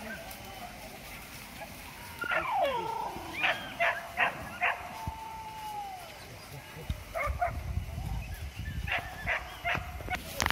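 Hunting dogs bark in short bursts during a wild boar hunt in the countryside, the yaps coming in scattered clusters at moderate distance over rustling background noise, with a man calling out between them.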